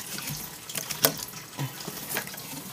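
Water poured to wet the dirt in a pet enclosure, a steady close splashing trickle with a few brief clicks and knocks.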